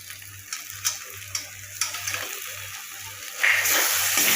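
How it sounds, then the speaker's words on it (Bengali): Poppy seed paste frying with goat brain in a pan for a Bengali mutton brain posto dish, giving a steady sizzle with rhythmic stirring scrapes and a louder burst of frying near the end, with no speech. "পোস্তটা দিয়ে আরেকবার আমি কষিয়ে নেব।"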